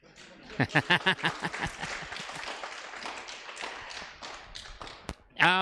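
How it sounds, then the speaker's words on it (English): A conference audience claps loudly for several seconds, the applause thinning toward the end, followed by a sharp knock and a brief voice. "I won't mind an applause."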